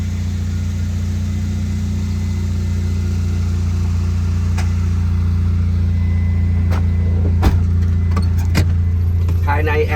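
A modified Honda Civic EK with a steel exhaust idles and drives, a steady low engine drone with light clicks and rattles throughout, voices faintly present.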